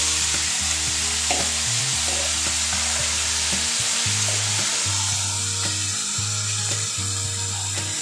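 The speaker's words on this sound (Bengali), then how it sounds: "গরম তেলটা একদম গরম এবার সেই মেখে রাখা মাছগুলো দিয়ে দেওয়া হবে" Marinated magur catfish frying in very hot oil spiced with cumin, a loud dense sizzle and crackle over a low rhythmic mechanical hum, close and continuous with no voices.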